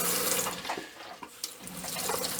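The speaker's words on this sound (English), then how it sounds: "I'll let this run a little bit longer here once we get all the antifreeze through, so I can make sure that that P-trap is filled" Antifreeze runs from a fixture into the P-trap of an RV's plumbing during winterizing, a steady faucet-like splashing stream with brief dips and surges, close and clear with no talk.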